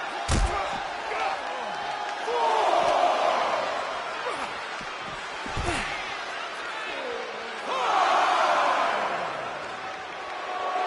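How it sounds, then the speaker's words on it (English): A wrestling arena crowd roars in swelling waves, with sharp slams or impacts cutting in near the start and middle, and commentators talking over the cheering. "The crowd is fired up."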